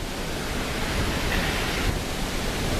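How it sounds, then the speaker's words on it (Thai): Tad Khamued waterfall in southern Laos gives a steady, dense roar of rushing water, close and unbroken throughout with no voices. "อันนี้คือในส่วนของน้ำตกตัดขมึกใกล้ๆนะครับ"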